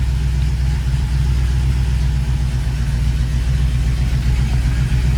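A Studebaker Champ engine idles steadily up close, a continuous low, even rumble with no voices over it.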